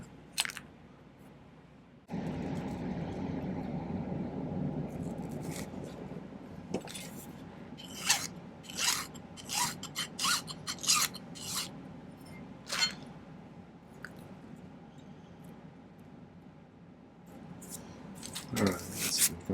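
Silver pieces for a rose quartz solitaire ring are cut with a series of sharp snipping clicks, spaced irregularly and close up over a low steady background.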